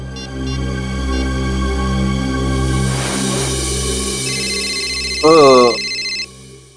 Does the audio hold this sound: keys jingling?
no